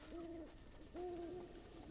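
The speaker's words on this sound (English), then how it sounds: "I do hear an owl." Two soft hoots from an owl in the open world of The Legend of Zelda: Breath of the Wild, each a short tonal call repeated about a second apart, fairly faint over a steady ambient game background with no talking.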